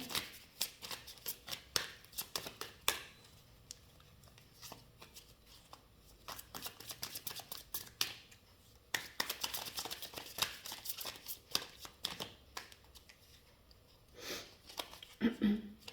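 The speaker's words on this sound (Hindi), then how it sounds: "That's why I need to shuffle again." Tarot cards being shuffled by hand in bursts of crisp riffling and flicking, with short pauses between rounds and a few louder snaps near the end, close and fairly quiet.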